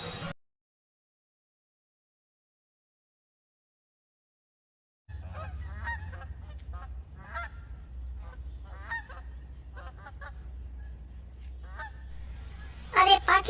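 Cartoon geese honk repeatedly across the sky after a few seconds of silence, the calls sharp and fairly close over a low steady rumble, with a louder burst of honking at the very end.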